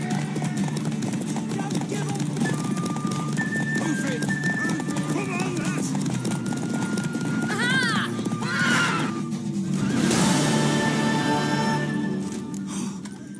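Horse hoofbeats clip-clopping in The Witcher 3 video game, a steady rhythm with a neigh or whinny, heard under spoken dialogue, music and other game sounds.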